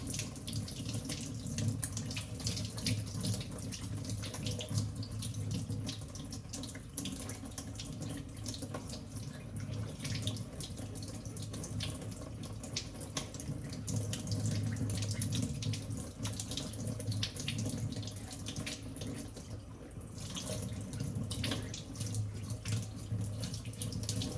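Tap water runs steadily from a faucet into a sink while a gold Rolex watch is rinsed, a continuous close splashing flow with no talk over it.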